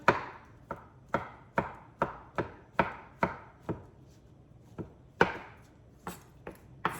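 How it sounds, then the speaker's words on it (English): Knife chopping food on a cutting board, about fifteen crisp, close knocks in an uneven rhythm, each with a short ringing decay, heard alone in a quiet kitchen. "Chop those up."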